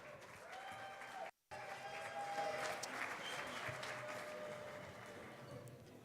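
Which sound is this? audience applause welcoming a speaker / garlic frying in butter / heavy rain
audience applause welcoming a speaker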